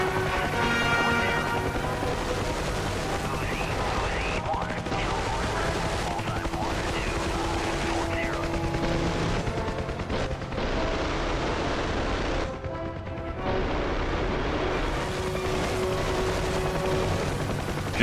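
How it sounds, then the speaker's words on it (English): M134 miniguns on a UH-1H Huey gunship fire in the DCS World combat flight simulator, a dense continuous roar of rapid gunfire over helicopter noise, with short pauses between bursts. "you should be able to still see the tracer rounds from the M134s ricocheting off the ground at the points the gunners are engaging"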